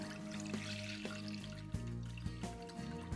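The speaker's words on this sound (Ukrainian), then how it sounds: "В ємкість наливаємо необхідну кількість нам молока." Milk pours into a pot for heating on a stove while bread ingredients are prepared, giving a steady close liquid splash and trickle with small clinks of the container, no talk.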